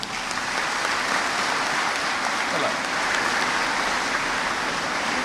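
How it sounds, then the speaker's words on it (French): Congregation applause during a church patronal feast celebration, a dense, even wash of clapping from a large crowd held at a constant loud level, with a murmur of voices beneath. "Applaudissez pour cela."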